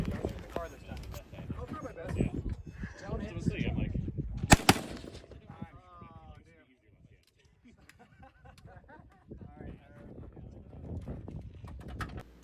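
Pistol shots at a two-gun action challenge match at a pistol club range, a rapid string of sharp reports early on, then quieter scattered sounds with someone talking over them.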